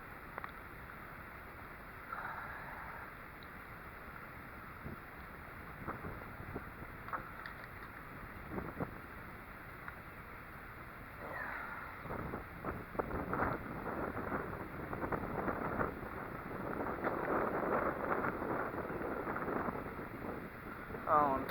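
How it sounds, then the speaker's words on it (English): Wind rising outdoors, a steady rushing wash that buffets the microphone and grows louder and gustier toward the end, with a voice speaking now and then. "The wind's starting to pick up today."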